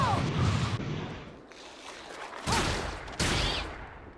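Gunfire in the action game Bloodstained: Ritual of the Night, a few sharp shot bursts over a busy game soundscape of effects and music, moderately loud.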